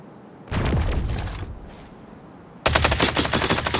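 Gunfire in the shooter game Lost Light: a long automatic burst, a short pause and a second quick burst, then a louder, denser sustained stream of rapid shots close to the listener.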